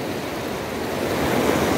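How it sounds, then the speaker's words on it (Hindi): The swollen Subarnarekha river in Jharkhand, risen after two days of rain, rushes in a steady broad wash of flowing water, constant and fairly close with no voices. "अब ये देखिए सुरनेखा नदी, अभी पानी थोड़ा सा अभी बढ़ गया है"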